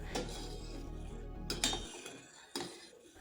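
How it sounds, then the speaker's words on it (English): A spoon scrapes and clinks against the bottom of a burnt pan while stirring water, giving a few soft metallic taps over a low steady hum, close and faint. "I stir it with a spoon and can really feel the carbon coming off easily."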